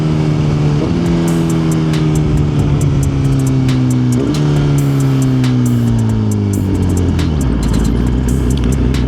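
A small motorcycle engine drones steadily while riding, with repeated rising pitch sweeps and shifts between gears and a drop in revs near the end, loud and close over constant wind noise.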